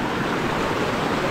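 A river flowing steadily close by in the Malaysian highlands, a continuous broadband rushing wash of water with no breaks, loud and unbroken.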